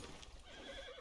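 A horse in Red Dead Redemption 2 gives a faint, brief whinny with a wavering pitch, heard over soft low background sound.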